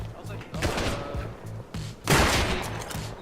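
Repeated gunshots in the survival video game Rust, a cluster of sharp reports with one loud close shot near the end, over low steady background noise.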